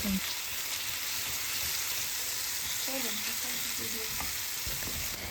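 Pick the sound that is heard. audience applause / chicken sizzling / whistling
chicken sizzling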